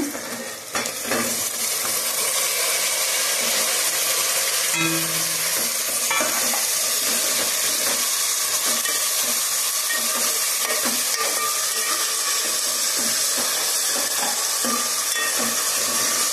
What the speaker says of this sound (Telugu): ఉల్లిపాయలు అయితే ఈ విధంగా ఎర్రగా ఎగుతూ ఉన్నాయండి. ఇప్పుడైతే టమాటాలు వేస్తున్నాను.